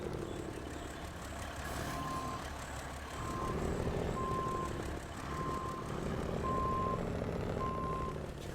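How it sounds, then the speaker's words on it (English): Reversing beeps from a Kenworth truck in the SnowRunner video game ring out in a steady repeating series over a low diesel engine rumble, with no talking. "the Kenworth can definitely yoink this thing"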